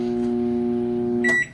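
A microwave oven hums steadily, then a short beep sounds as its buttons are pressed near the end.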